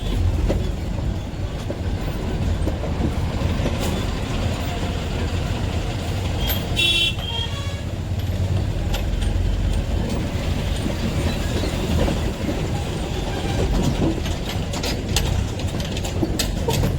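A train rumbles steadily through a railway level crossing in Bengal, wheels clattering loudly and continuously with a brief metallic squeal in the middle, no voices over it.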